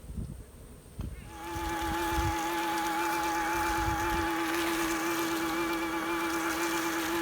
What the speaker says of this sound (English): Right now I'm using the Everything Bee Vac. You hear how quiet it is.